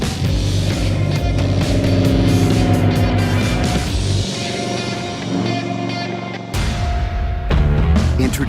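A 2015 Indian Scout mid-size motorcycle engine roars loud and close in a continuous, throaty drone that dips briefly before surging back to full strength.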